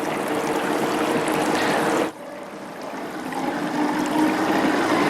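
A sharpening wheel starts up with water running onto it, giving a steady broadband rush that briefly dips partway through and then swells back, continuous and close, with no talking.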